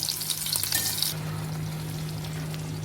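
Apple slices fry in a pan for an apple and brinjal curry, a bright hissing sizzle that runs for about a second and then cuts away, leaving a quiet background hum.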